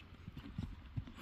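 Horse hooves clip-clop at a steady walking pace during a dressage riding lesson, fairly close and soft, with muffled outdoor background and no clear speech.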